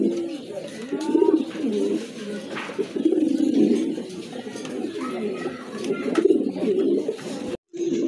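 A pair of pink-beaked pigeons coos in repeated low, rolling phrases close by, steady throughout with a brief break near the end.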